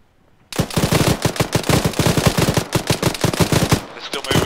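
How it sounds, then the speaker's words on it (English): Rapid, sustained bursts of heavy machine-gun fire from a BTR armored vehicle hammering a bunker in a military video game, loud and close, starting abruptly after a brief quiet moment. "60, you're pushing up ahead of the infantry. Open fire on that bunker."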